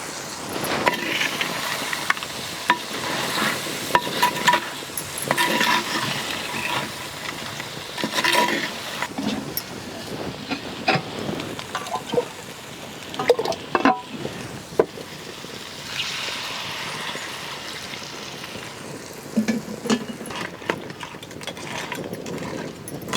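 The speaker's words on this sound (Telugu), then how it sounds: "అలాగే ఒక చెంచాడు కారం కూడా వేసుకుంటున్నాను." Chilli powder is stirred into a pan of crab biryani, with soft, irregular scraping and a low, continuous sizzle running quietly for a long stretch, with no voices.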